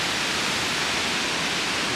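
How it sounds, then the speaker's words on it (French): Waterfall on a New Zealand trail cascading in a loud, steady broadband rush that fills the scene without pause or voices. "cascade."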